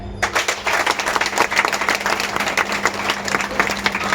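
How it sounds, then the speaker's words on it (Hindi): Steady, dense applause from a crowd, many hands clapping continuously at an even loudness throughout. "ताली बजा सकते हैं।"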